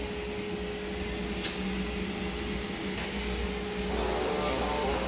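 A DIY gel planer fitted with a shavings scraper strips gelcoat from a fiberglass boat hull, producing a loud, continuous motorized whirring drone close by with a steady hum underneath.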